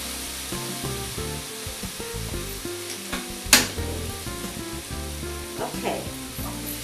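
Meat with its marinade sizzles steadily in a hot pan, a continuous crackling hiss broken by stirring scrapes and one sharp clank, with music playing underneath.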